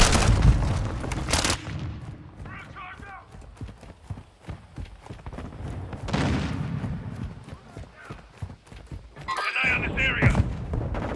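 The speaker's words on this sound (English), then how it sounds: "Grenade out." Grenade explosion in Call of Duty Modern Warfare II, a loud close blast near the start followed by more booming bursts and gunfire, with someone talking in between.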